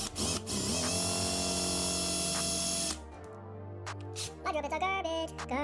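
A power drill with a 1/4 inch bit whirs loudly at steady speed, boring into a 2020 Road Glide saddlebag for an LED latch light, then stops and restarts in short bursts.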